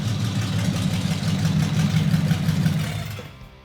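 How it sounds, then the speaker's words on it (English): Packard engine in a full custom car idles steadily with a deep, throaty low rumble, loud and close, without a full exhaust fitted, running alone for a few seconds before cutting off. "That's the reason I chose this engine from the start, because of the sound."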